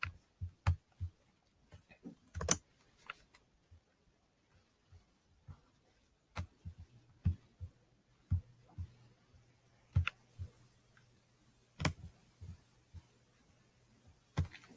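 Computer keyboard and mouse clicks while formatting a homemade calendar, sharp isolated taps and clicks scattered irregularly across a quiet background, some in quick pairs, no talking.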